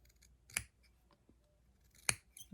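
Scissors make two crisp, close snips about a second and a half apart as they trim the corner of a fabric patchwork piece, with quiet rustling between cuts.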